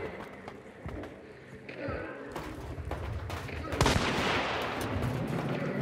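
Gunfire in the video game Hunt: Showdown: several sharp shots crack out while players talk over them, and the action grows louder toward the end.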